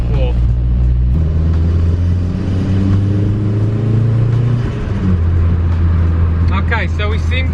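Volvo 340 with a manual boost controller blipping its throttle in third gear, a loud close engine rumble rising and falling through the rev while someone talks over it.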